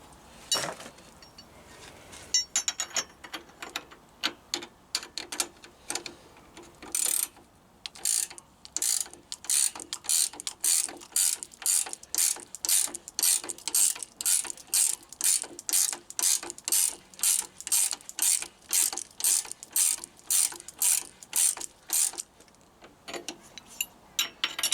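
Ratchet wrench cranked on the headstock bearing of a Triumph Bonneville T140 motorcycle during a bearing installation: rapid, loud, close clicking strokes in a long rhythmic series, with a brief pause early on.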